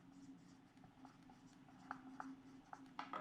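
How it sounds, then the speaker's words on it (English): Quiet handwriting strokes, soft scratchy scribbles in short bursts with brief pauses, faint and close beneath a low steady hum. "So let me write this down"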